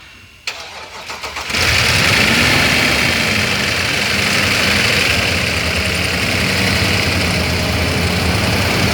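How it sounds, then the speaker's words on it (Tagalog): A rebuilt Lexus 3UR V8 engine cranks briefly and fires up for the first time after an overhaul, then settles into a loud, steady idle close by. "So yan yung unang andar niya mga kaibigan."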